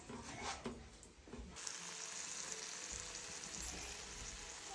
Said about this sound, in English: chuck your onions in, bacon in, with a good mix, and fry it off until it's browned